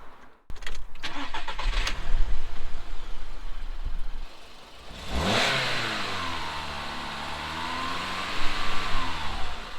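An Audi A2 1.6 FSI engine, just repaired of a cylinder misfire, cranks briefly, catches and starts, then revs up and settles into a smooth, steady idle with rising and falling engine pitch.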